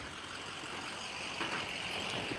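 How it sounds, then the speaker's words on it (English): Trucks passing by a park give a steady, broad rumble and roar of heavy traffic, fairly distant and continuous, with no clear individual pass-bys. "I'm getting very distracted today because there's just lots of trucks,"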